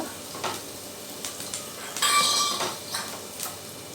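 Onions sautéing in a pan for a potato stir-fry side dish, with a low steady sizzle, a few stirring scrapes and light clinks of a utensil against the pan, and no talking.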